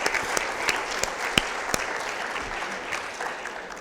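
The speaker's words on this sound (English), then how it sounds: "I think I deserve the clap." Audience at a panel discussion clapping, a steady crowded patter with a few sharper individual claps standing out, continuous and fairly close.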